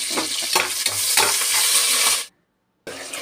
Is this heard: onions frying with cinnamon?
yes